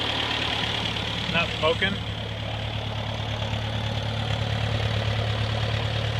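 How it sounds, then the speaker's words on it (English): An old Ford 8N tractor engine idles steadily and close by after a flooding carburetor float was fixed, a constant low putter with someone speaking briefly over it. "it seems to be running better now"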